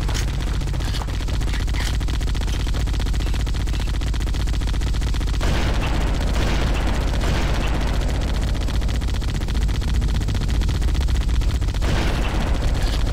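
Sustained gunfire in the first-person shooter Halo Combat Evolved during co-op play, dense bursts of shots running continuously and loudly throughout, with a sharper surge of firing partway through.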